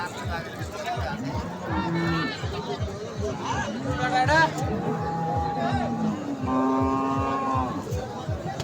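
Dairy cows moo repeatedly at a busy cattle market where milking cows are sold without calves, several long calls rising over steady crowd chatter and people talking nearby.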